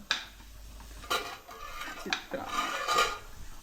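Chitranna, a lemon-style rice dish, being served out with utensils, giving a few scattered scrapes and clinks of a spoon against pots and plates, close by, with no talking.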